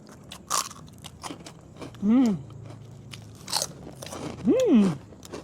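Someone bites into crunchy chicharon, fried pork rinds, producing sharp crisp crunches with chewing between them, up close, mixed with a couple of brief voiced sounds.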